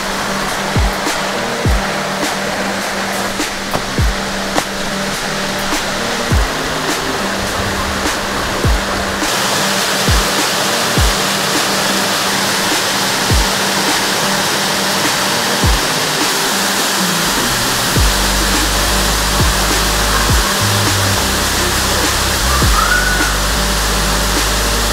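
A waterfall roars steadily and close on a hot, dry day at the end of a long trail hike, a dense, unbroken rush of falling water filling the whole stretch.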